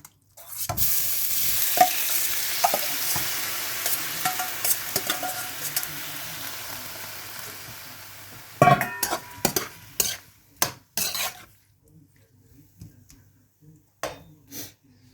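Cleaned chicken kidneys drop into a hot pan and sizzle loudly, fading into quieter crackles, with scattered clinks and stirring scrapes near the end.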